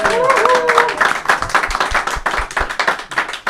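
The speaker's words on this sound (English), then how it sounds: "Give them a big round of applause," A small studio audience at a Gordon Bennett balloon race highlight show claps briefly, with distinct individual claps close up, while a voice briefly overlaps at the start.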